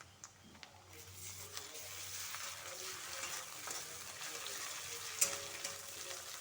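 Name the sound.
ginger garlic paste frying with onions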